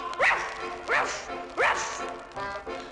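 A voice on a 1968 Disneyland children's record imitates a big dog with three deep, gruff barks in a steady rhythm, then trails off into softer vocal sounds.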